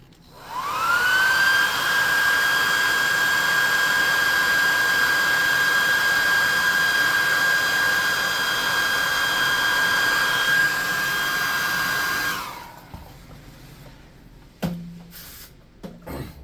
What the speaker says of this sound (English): We're going to get hot air gun.